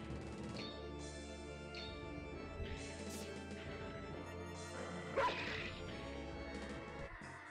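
A dog barks and yips a few times in the fantasy video game Travelling Darkshire, the short calls rising over a steady bed of game music and sound effects.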